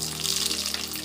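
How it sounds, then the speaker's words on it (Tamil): Steady crackling sizzle of mustard seeds sputtering in hot oil in a kadai for tempering, with a constant low hum underneath and no talking. "கடுகு போடுறேன்,"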